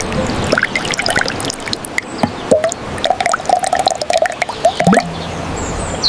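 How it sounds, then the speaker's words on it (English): Liquid organic fertilizer poured slowly, a steady trickling and dribbling stream splashing into liquid, close and fairly loud, running continuously with a few sharper drips. "Pour it slowly."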